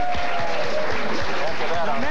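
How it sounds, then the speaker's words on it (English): A television talk-show studio audience applauds a guest, a dense, steady wash of clapping that runs the whole time beneath a voice talking over it. "give him a nice round of applause"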